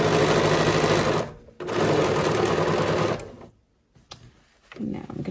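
A sewing machine stitches a fabric embroidered face mask close up, running in two steady bursts with short pauses between, then starting again softly.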